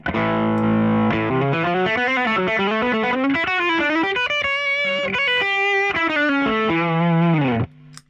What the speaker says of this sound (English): if I've got my guitar here playing overdrive